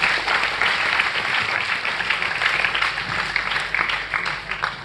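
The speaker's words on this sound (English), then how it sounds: "I think you should give a big round of applause for this particular team." Audience applause for a team at a Chandrayaan-3 success celebration held at IIT Dhanbad, a steady, dense wash of many hands clapping that holds at an even level for about five seconds.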